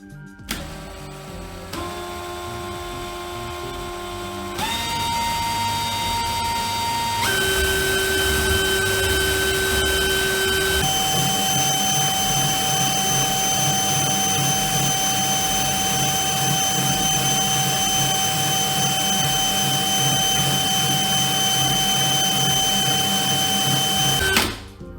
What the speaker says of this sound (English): speed up the drill and you can run at full speed then